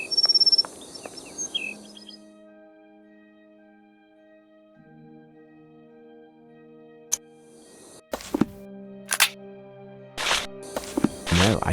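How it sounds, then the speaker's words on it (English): A blue bird of paradise in the Sherlock Holmes: Nemesis game gives a strange call of clear, sustained tonal whistles, followed by a burst of sharper, buzzy chirps and rasping notes close by, with no talking. "we are dealing with a blue bird of paradise, my dear Watson."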